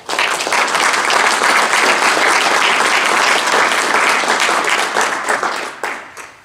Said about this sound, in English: I'd love for us to give him a round of applause.